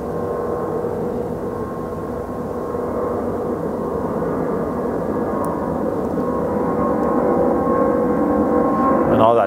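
An airplane flies overhead near an old barn foundation, heard as a steady, distant low drone that holds evenly throughout with no voices.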